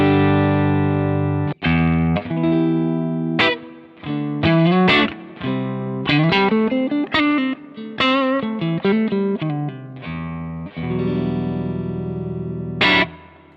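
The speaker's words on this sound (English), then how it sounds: "it's a really lovely sounding spring reverb." Clean-channel electric guitar through an Amplified Nation Ampliphonix amp with its spring reverb on, playing a loud, sustained sequence of strummed chords and picked notes whose tails bloom and decay into a soft reverb wash, with no talking.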